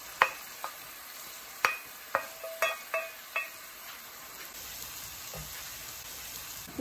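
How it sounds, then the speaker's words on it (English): Chicken bhuna being stirred over high heat in a pan, a constant sizzle broken by several sharp spoon clinks against the metal in an uneven rhythm, then a quieter stretch of frying, all close by without voices. "Put the gas up on high heat and stir this in."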